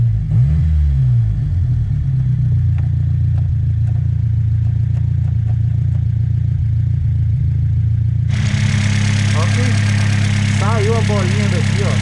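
Chevrolet Chevette Turbo engine idling loudly up close, then swelling into a heavier revving roar with a hissing rush in the final seconds; people talk over it.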